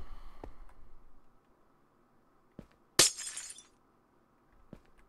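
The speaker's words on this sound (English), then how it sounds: "Well, break more of this glass." Glass blocks break in the Minecraft video game with one sharp, bright shattering crash, surrounded by a few faint clicks and ticks against a quiet background.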